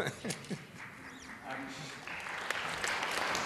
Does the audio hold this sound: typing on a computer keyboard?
no